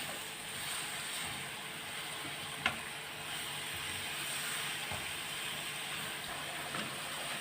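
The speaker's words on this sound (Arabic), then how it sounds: "ابتدي بقى اقلب كويس قوي بسم الله" Food frying in a pan with a little pomegranate molasses gives off a steady, even sizzling hiss while it is stirred, with faint scraping and one small clink partway through.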